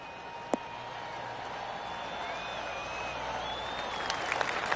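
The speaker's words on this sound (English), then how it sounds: "Oh, golf clap" Broad, steady golf crowd applause in a video game builds slowly and stays even throughout, with a sharp click near the start and thin whistling tones drifting above.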